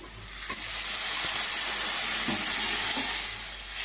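Water goes into sautéed spices for a fish curry, a strong, even hiss and steamy sizzle swelling up and holding steady for a few seconds before easing off, with a few faint knocks.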